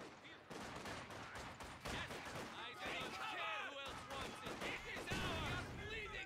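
Gunfire from the World War II strategy game Company of Heroes 2: bursts of rifle and machine-gun shots and explosions crackle steadily, low in level, under clipped in-game unit voice lines.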